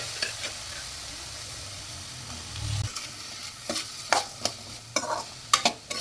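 Boiled white chickpeas stirred into frying onions in a pan for sundal, a steady soft sizzle under repeated scraping strokes of a spoon, growing more frequent toward the end.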